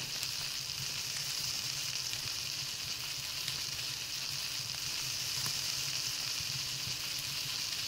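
Steak sizzling as it cooks in the video game Palworld, a steady, dense frying hiss that runs unbroken and fairly loud from start to finish with no voices over it.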